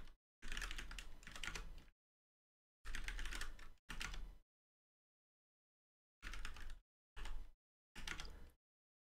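Close, rapid clatter of someone typing on a computer keyboard comes in several bursts of one to two seconds, each followed by full silence.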